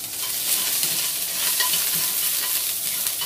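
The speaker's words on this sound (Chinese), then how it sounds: "燒熱咗只鑊之後啦，我哋又俾啲料頭落去啦，姜同葱落咗落去先" Ginger and scallions stir-frying in a hot wok with a little oil, giving a steady, close, fairly loud sizzle that holds evenly for a few seconds with no talking.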